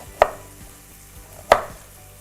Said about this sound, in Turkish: Yine böyle doğradım.